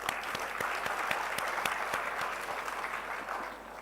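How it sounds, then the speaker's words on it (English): An audience at a school annual day celebration gives a round of applause, a steady crowd clapping with distinct nearby claps popping out, sustained at an even level before easing slightly. "a round of applause to them as well"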